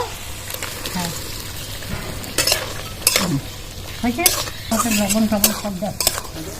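Fried potatoes tipped into a pan of masala for a vegetarian kochu-aloo dum and stirred: a bright sizzle under repeated scraping and clattering strokes against the pan, close and fairly loud, with faint voices in the background.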